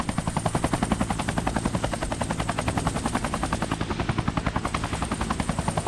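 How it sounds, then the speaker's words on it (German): Helicopter in the video game Hitman: Absolution, a rapid, even rotor chop pulsing steadily throughout, moderately loud and close with no voices. "Ein Helikopter, was denn sonst?"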